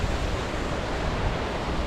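The Annalong River rushes steadily through the Mourne Mountains with a constant, close, broadband flow of water and a touch of wind noise, and no voices.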